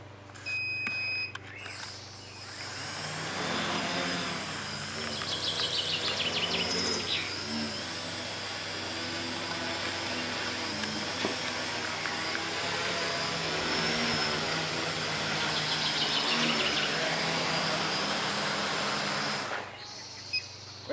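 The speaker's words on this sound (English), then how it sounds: "I'm going to test if my drone can actually lift the nerf gun." A multirotor drone carrying a semi-automatic nerf gun hums with a steady, loud motor whine that rises and wavers for about twenty seconds before cutting off, with faint chirps now and then.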